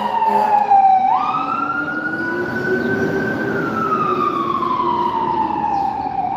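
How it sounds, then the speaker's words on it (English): A fire truck siren wails loudly and steadily as the engine passes nearby, its tone climbing and then slowly falling away, heard alone without talk. "There go the fire truck, man."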